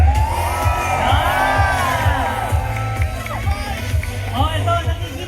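A large rally crowd at Liwasang Bonifacio claps and shouts in a steady, dense roar, with a loud voice calling over it through a public address system.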